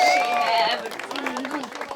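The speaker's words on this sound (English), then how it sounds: "Applause!" A couple claps at home after finishing a table in their van build, a brief, light smatter of clapping close by that follows high excited voices and tails off under talk.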